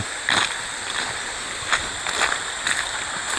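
Splashing river water at a deep swimming spot, a series of short bright splashes and sloshes spread across the moment, fairly close, with no talk over it.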